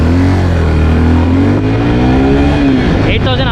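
Suzuki Gixxer 250 BS6 motorcycle revving hard under throttle, a loud, steady engine roar close by with the pitch rising and holding throughout.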